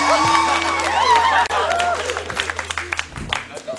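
Studio audience at a Malaysian talk show claps and cheers, starting under a raised voice and breaking into scattered, distinct hand claps that grow sharper toward the end.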